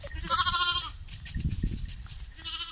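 Sheep bleat on a farm, with two loud, close, wavering cries at the start and a third near the end, separated by low rustling and shuffling.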